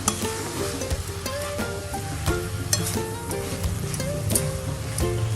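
A grated fresh coconut and sugar barfi mixture stirred in a pan, with a steady close sizzle under repeated spoon scrapes and knocks against the metal in an uneven rhythm, and no voices.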